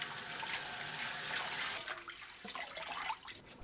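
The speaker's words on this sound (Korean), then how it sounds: "톳을 물에 헹궈냅니다." Hijiki seaweed rinsed in running water at a kitchen sink, with a steady close rush of pouring water followed by sloshing and splashing as it is swished, no talk.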